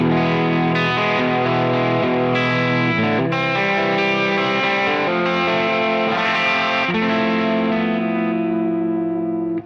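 Sustained distorted electric guitar chords through a Marshall amp modeler with a grey compressor and spring reverb ring out with a shimmering, reverberant tail, changing every second or so and fading at the end.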